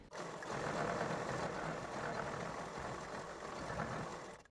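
A sewing machine runs continuously for several seconds, stitching fabric for a blouse sleeve with a steady, even whir that is close, faint and alone.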